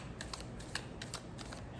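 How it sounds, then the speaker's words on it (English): Tarot deck being shuffled by hand, a steady dry riffle of cards with soft flicks and slaps running the whole time at close range, fairly quiet and with no talk. "All right, one more shuffle."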